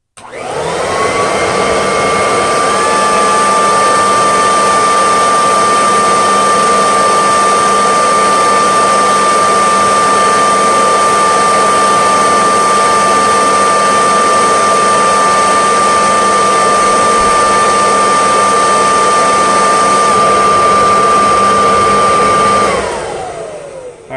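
A Kirby Dual Sanitronic 80 vacuum running straight suction with no brush roll spins up into a loud, steady motor whine and airflow roar, holds constant for about twenty seconds, then winds down at the end.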